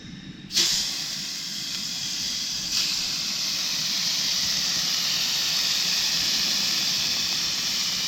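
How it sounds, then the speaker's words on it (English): Snapping turtle meat hitting a hot pan and searing, a sudden loud hiss that settles into a continuous, steady sizzle heard up close with no talking. "Okay, we're going to pan sear these real quick."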